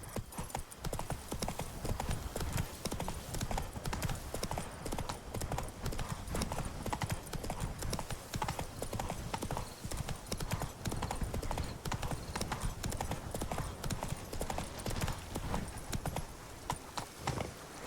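Geralt's horse Roach gallops in The Witcher 3 with a steady, close stream of rhythmic hoofbeats that runs unbroken for the whole stretch at an even pace, with no voices over it.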